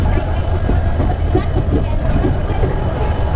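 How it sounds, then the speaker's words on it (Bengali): A passenger train rumbles steadily along the rails with a rhythmic clatter, heard from inside a carriage with a continuous low roar. "আর ট্রেন সবে ছাড়লো"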